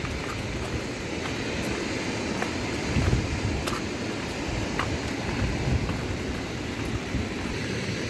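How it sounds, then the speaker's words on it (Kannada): Steady rain hisses continuously at Mallali Falls in Coorg, with a low rumbling undertone and occasional faint clicks and taps. "ಮಳೆ ಬೇರೆ ಶುರುವಾಯಿತು"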